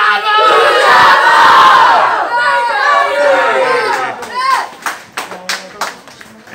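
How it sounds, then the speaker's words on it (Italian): Youth football team of under-15 players chanting a call-and-response battle cry together at a match, loud crowd voices that fade into scattered clapping and cheers near the end. "Il grido di battaglia"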